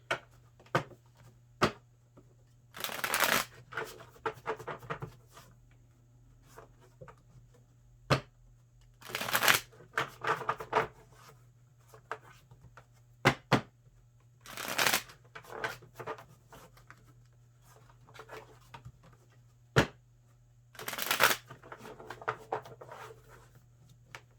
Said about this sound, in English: I had these cards for so long and they still are very stiff to shuffle.